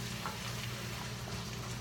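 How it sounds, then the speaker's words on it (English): Lean hamburger meat frying in a pan for spaghetti sauce, with a steady close sizzle and low rumble as it is stirred, no voices over it. "So let me give it a good stir again."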